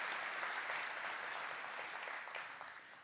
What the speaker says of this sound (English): So let's give her a round of applause for having such a heart and soul for her hometown of Lancaster.